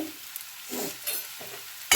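Onions browned until red fry in a pan with a couple of dried chillies and turmeric, a soft, quiet sizzle broken by short bursts of stirring; no talking.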